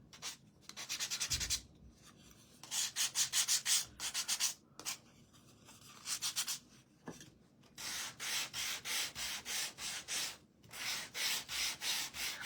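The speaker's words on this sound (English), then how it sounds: "let's go ahead and sand this" Hand sanding of black-painted wood, focused on the edges, in bursts of quick rhythmic back-and-forth strokes, close and crisp, separated by short pauses, with no talking.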